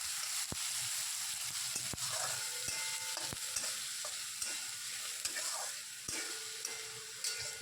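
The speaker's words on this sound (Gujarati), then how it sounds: "પછી ડુંગળી નાખીને સાંતળી લઈશું." Onion goes into hot oil with mustard seeds and asafoetida in a pan and is stirred, giving a steady sizzle and fry with sharp spatula scrapes and taps.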